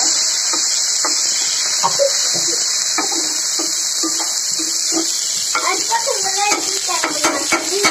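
Water poured over fried spices in a home-kitchen pan for pumpkin lentil dumplings. It sizzles with a steady hiss while a utensil scrapes and clatters against the pan, under a few soft speech sounds.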